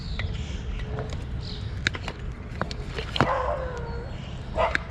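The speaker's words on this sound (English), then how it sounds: "it sounds like a fairly small dog" A fairly small dog barking at a neighbor's house in a suburb, a few sharp yips scattered over several seconds, moderately close, over a steady outdoor background hum.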